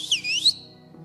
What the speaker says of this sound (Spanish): Yo le enseñé a chiflar así a mi hijo